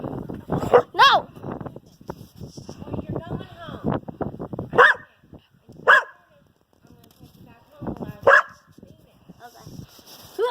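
Dogs bark and yelp in sharp, loud bursts during a fight, with growls and whimpers between them, while a person talks close by.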